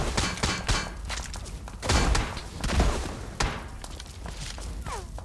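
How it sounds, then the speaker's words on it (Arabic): Video game gunfire from a mountain, several sharp shots and thuds spread through a few seconds amid the game's background noise. "كان طلقة من الجبل"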